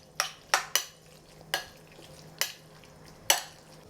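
Beef being mixed with soy sauce and white pepper in a bowl, six separate sharp clacks and scrapes spaced unevenly over a few seconds, close and fairly quiet, with no one talking.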